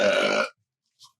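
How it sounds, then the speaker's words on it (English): A single loud, close burp lasts about half a second, followed by near silence and a couple of faint small noises. "I feel like I start a lot of the segments with a burp"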